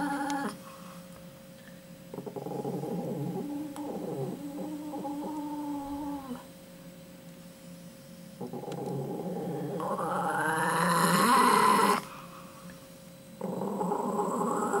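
A dog growls while guarding a chicken bone, a low rumbling snarl that comes in several sustained bouts with short pauses and swells to a louder, tenser stretch near the end, heard close up and alone.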